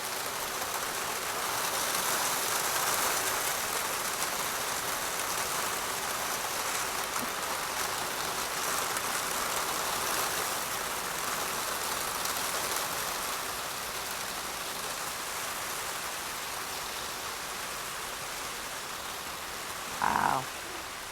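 A downpour from a severe thunderstorm keeps up a steady, loud rushing hiss for the whole stretch, with a brief sharper knock near the end and no talking.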